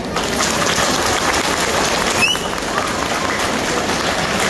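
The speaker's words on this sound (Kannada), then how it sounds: "ಒಮ್ಮೆ ಜೋರಾದ ಒಂದು ಚಪ್ಪಾಳೆ ಕೊಡಿ ನೋಡ" A crowd claps loudly at a spiritual speech and Varamahalakshmi puja gathering in Dubai, a dense sustained wash of applause with a brief sharp squeak midway, steady from start to finish.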